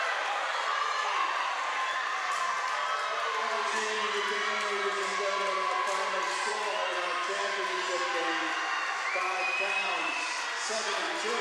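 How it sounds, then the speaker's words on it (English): A crowd at a women's college basketball conference championship game roars steadily after the final win. The broad, constant cheering runs throughout beneath a commentator talking. "Look at the crowd."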